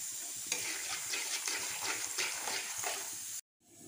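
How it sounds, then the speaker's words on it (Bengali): Peanuts frying in a pan, giving a close, steady sizzle broken by several rhythmic scraping stir strokes, ending in a brief sudden cutout near the end; no voices. "এখন আমি বাদামটাকে একটু ভাজা করে নেব।"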